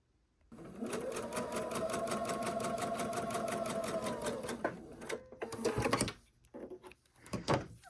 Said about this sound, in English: And now I'm going to sew these two pieces together.